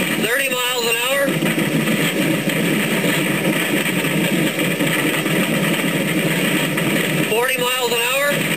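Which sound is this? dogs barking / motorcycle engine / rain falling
motorcycle engine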